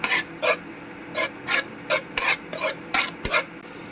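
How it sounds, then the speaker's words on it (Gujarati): Chilli paste being sautéed and stirred in a pan for veg Frankie filling: a spatula scrapes and rubs through the paste in eight quick, evenly spaced strokes, close and fairly quiet, with faint sizzling between. "થોડી મરચાંની પેસ્ટ એડ કરી દઈશું. સારી રીતે સાતળી લઈશું."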